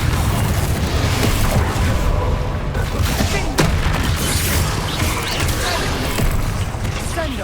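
Confringo blasting spells burst repeatedly in a Hogwarts Legacy battle, dense booming explosions and crashes piling over each other throughout, with a voice casting spells under the din.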